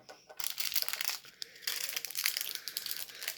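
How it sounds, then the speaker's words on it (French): Plastic packaging of a slime kit crinkles and crunches as it is torn open, close and busy, with rapid rustling bursts and a brief pause partway through. "Maintenant, ouvrons ce slime."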